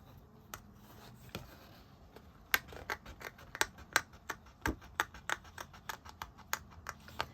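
Scissors snip out paper circles for a handmade card, a steady run of sharp, close cuts that quicken into a dense rhythmic series with no talk.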